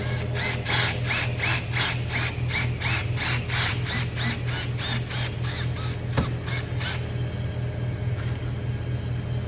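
A power drill drives self-tapping pocket screws with a rapid series of short, even whirring bursts, about twenty of them at a steady rhythm, over a low constant background hum.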